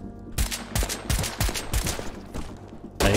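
AK rifle gunfire in Rust, a rapid string of around a dozen loud, punchy shots at a steady cadence, close and alone, ending with one more heavy burst.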